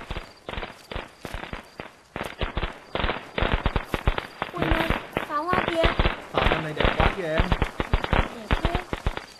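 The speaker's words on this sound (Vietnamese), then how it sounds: "Pháo hoa kìa." Fireworks and firecrackers pop in dense, irregular bursts outdoors on a Lunar New Year's Eve night, crackling steadily throughout while people talk over them.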